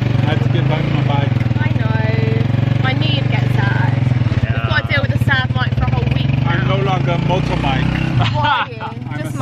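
A motorbike engine rumbles steadily close by in Siargao for the whole stretch, its low drone running under chatter and background babble before dropping off near the end.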